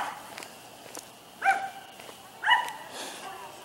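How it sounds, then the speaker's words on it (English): A small dog gives two short, sharp barks about a second apart, fairly close, over a quiet room background. "He's a tiny dog, but holy crap, he makes him sound like he's a big dog."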